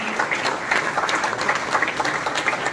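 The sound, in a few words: audience applause welcoming speaker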